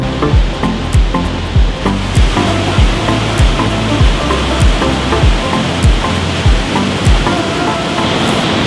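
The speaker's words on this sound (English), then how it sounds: "Look at this awesome waterfall" Waterfall near Annecy, France, a loud, constant rush of falling water filling the whole span, close and steady, with faint low thumps recurring beneath the roar.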